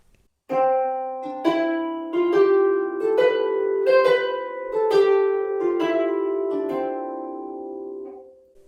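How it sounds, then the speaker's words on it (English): A harp plays a dotted rhythm exercise, long-short note pairs with accents on the long notes, a steady run of plucked tones rising and falling, close and clear with ringing sustain, no talking. "a dotted quaver plus semi-quaver, where you put an accent on the long notes"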